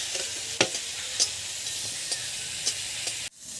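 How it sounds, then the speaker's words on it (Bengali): Begun bhaja, eggplant slices frying in a pan for a vegetarian festival meal, crackles with a low continuous sizzle and occasional scraping stirs, moderately quiet, ending in a sudden drop to near silence. "এবারে জমজমাটি বেগুন ভাজা।"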